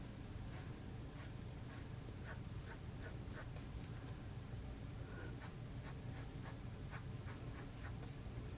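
A fountain pen with a stiff nib scratches across paper in repeated short strokes, very faint and close, with no talking.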